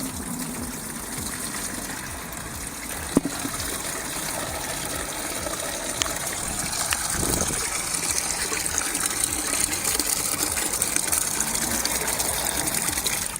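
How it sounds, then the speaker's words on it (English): Engine coolant from a MG ZS 180 KV6 drains out of the detached bottom hose into a bucket, a steady close gushing pour of liquid that runs without a break and holds fairly loud throughout. "the bottom hose has the clamp removed and the system drained from here into a bucket."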